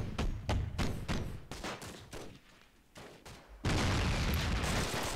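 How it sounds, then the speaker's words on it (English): Mortar and gunfire bursts in Myth II: Soulblighter, a string of sharp thumping shots in quick rhythm, then a dense, loud roaring barrage at the end, with no voices. "Nice mortar shot there from MP, almost getting Obelix."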